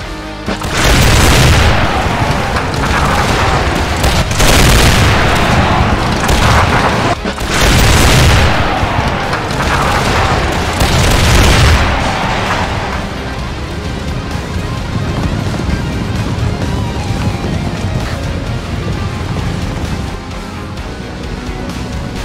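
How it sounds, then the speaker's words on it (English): Battlefield cannon fire loaded with partridge shot at Blenheim: loud, repeated booming blasts and crackling gunfire for about twelve seconds, then easing into a sustained rumbling roar. "moved his cannons loaded with partridge shot to the front and unleashed hell on the French"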